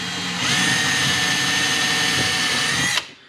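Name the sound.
power drill drilling pilot hole through particle board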